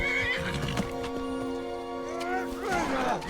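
A horse whinnies in Skyrim amid forest-game ambience, a rising neigh near the start and again toward the end, with faint hoof clip-clop and game sounds around it.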